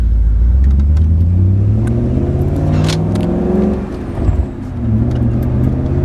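A race car engine revs loudly and steadily with a deep rumble, dipping briefly near the end before building again, with faint crackles that could be exhaust burbles and pops on a cold engine.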